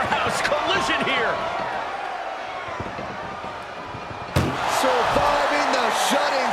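A single sharp slam of an ambulance door in the WWE 2K25 wrestling game, a sudden loud impact midway through, after a stretch of struggling, thudding movement and crowd murmur.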